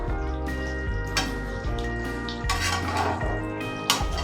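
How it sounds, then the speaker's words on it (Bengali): In a kitchen cooking a chicken curry, a metal lid is handled on a pot of boiled chicken, giving a series of clanking, ringing metallic knocks and scrapes over a steady low simmer, with no talk. "চিকেনটা বয়েল হয়ে গেছে, ঢাকাটা আমি নামিয়ে দিচ্ছি।"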